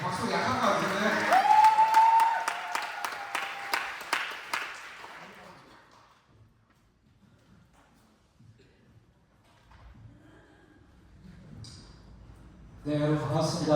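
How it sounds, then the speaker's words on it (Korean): An audience claps in welcome for a pastor at a worship service during a mission retreat, loud steady applause that fades over several seconds, then a quieter stretch with faint sounds before noise rises again at the end. "목사님을 박수로 우리 한번 모시겠습니다"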